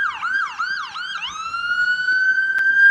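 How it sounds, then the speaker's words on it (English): A loud ambulance siren yelps in quick repeated sweeps, then settles into a long rising steady wail, close by. "We've got an ambulance coming by here"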